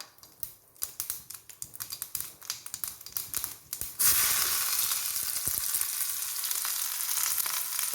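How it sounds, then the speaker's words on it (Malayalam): Onions dropped into hot oil with popping mustard seeds, first a run of sharp crackling pops, then a loud, steady sizzle that stays even to the end. "നമുക്കിനി ഉള്ളി ഇട്ട് കൊടുക്കാം"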